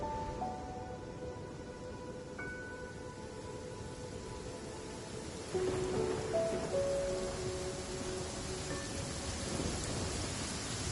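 Steady heavy rain in a Genshin Impact downpour, with low rumbling thunder rolling beneath it; the rain grows louder and denser about halfway through, with faint tonal game sounds drifting over it.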